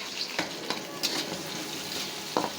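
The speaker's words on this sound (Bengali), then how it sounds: "তেলে আমি পেঁয়াজ দিয়ে মশলাটা কষিয়ে নেব।" Onion and spices frying in oil for a lau shak and nola fish curry, a steady moderate sizzle with a few soft scrapes and clinks of stirring, close by and with no talking.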